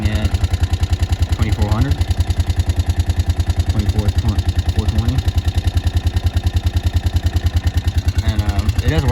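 Can-Am off-road vehicle engine starts and settles into a steady, pulsing idle with a regular low throb throughout, close and fairly loud, while someone talks over it.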